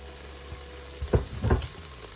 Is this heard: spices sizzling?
yes